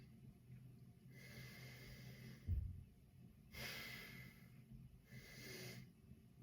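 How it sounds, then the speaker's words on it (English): A person in a strength and conditioning workout takes big, wide gasping breaths into the diaphragm, three separate close airy inhales with brief pauses between them, quiet and alone. "I can take big, wide, gasping breaths as I'm breathing in through the sides."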